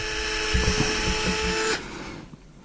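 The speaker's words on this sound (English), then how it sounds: "the drill bit is really dull and it's really small. You can see just going through this plastic." Small, dull drill bit boring through plastic, a steady high whine with a bumpy, grinding undertone for under two seconds before the drill stops and winds down.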